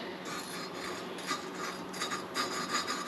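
A suction cup tool is spun back and forth to lap a valve in a Yamaha Moto 4 engine head, making a continuous gritty rubbing and grinding with rhythmic strokes, close and fairly quiet.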